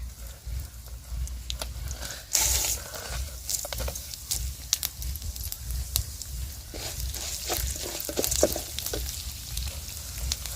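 Pepper and cumin crackle and sizzle in hot oil in a pan, a steady close frying hiss dotted with small pops and sputters, alone without talk.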